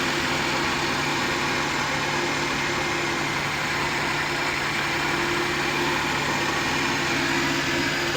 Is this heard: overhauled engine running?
yes